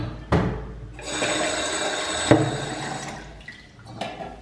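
Water runs into a container being filled to make slime, starting with a sharp splash, then a strong gushing stream that fades and breaks off. A couple of brief knocks or plops come after, and no one speaks.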